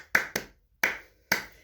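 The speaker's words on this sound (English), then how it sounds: "I can clap my hands." Four sharp hand claps close by, the first two in quick succession, then two more spaced evenly after a short pause, with no talking.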